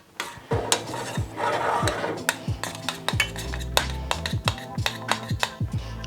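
A whisk scrapes and taps against a pot while stirring a thickening milk mixture for Japanese milk bread, a fast, uneven run of close metallic clinks over a soft swishing stir.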